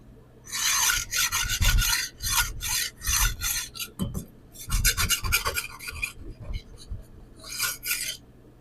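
Steel 8-inch chef knife in AR-RPM9 steel rasped across coarse Shapton Pro 120 and Naniwa whetstones, a close, loud scraping in repeated back-and-forth strokes with brief pauses between bursts.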